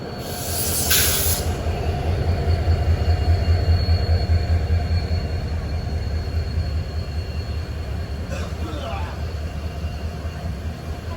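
Kamrup Express train at Hojai station, with a loud continuous low rumble and rattle of rolling coaches, a faint hiss, and brief high squeals from the wheels near the beginning and again later.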